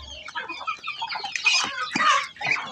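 Chickens clucking nearby, a busy stream of short, overlapping clucks and squawks with no talking.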